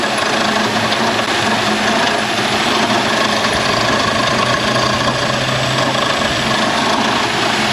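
A Honda car engine idles in a repair shop with the AC running, a continuous even hum with a faint high whine, holding steady and close throughout without talk.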